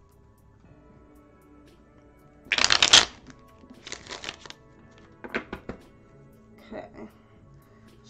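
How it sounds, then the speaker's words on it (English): A deck of cards being shuffled, with a loud riffle burst followed by several softer riffles and bridge taps, close by, with a brief spoken word. "Shuffle a few times."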